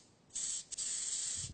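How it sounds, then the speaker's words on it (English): Gold food colour spray hisses onto the base of a chocolate dragon egg in two close bursts with a brief gap, a bright airy spray. "Spray the bottom with a bit of gold,"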